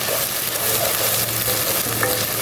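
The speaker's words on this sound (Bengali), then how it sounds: "এখন পেঁয়াজটাকে একটু আমি ভালোভাবে ভাজবো।" Chopped onions fry in a pan with a constant close sizzle while a utensil stirs and scrapes through them now and then, no talking over it.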